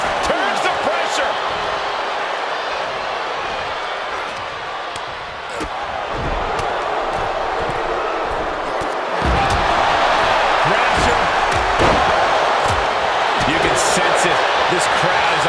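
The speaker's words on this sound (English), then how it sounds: "This crowd is on pins and needles." A wrestling arena crowd at a WWE SmackDown match makes a continuous broad roar that swells louder past the midpoint. Scattered thuds and a voice talking run over the noise.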